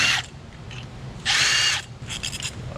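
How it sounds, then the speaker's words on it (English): Cordless power drill backing out the coil bolts on an Audi Q engine, three short close whirring bursts, the middle one longest, with light ratcheting clicks between. "Come back with my drill and run them out."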